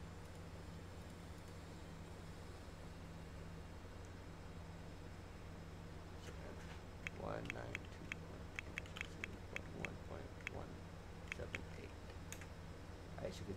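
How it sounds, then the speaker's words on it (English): Computer keyboard typing a command for a Sims 4 multiplayer setup: a run of light, quick keystroke clicks in the second half, over a low steady hum, with faint sounds before the typing starts. "They type that command in."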